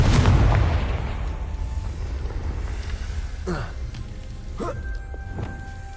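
A Confringo blasting spell bursts in Hogwarts Legacy, a loud booming explosion up front that decays into rumbling, followed by a couple of softer whooshing spell effects; no talk.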